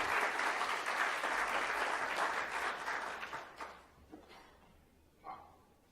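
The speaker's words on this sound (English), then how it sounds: "I think they need a round of applause." A conference audience at an internet technical meeting's opening plenary claps for the organising staff, a full round of applause that thins out after about four seconds into a few scattered claps and small noises.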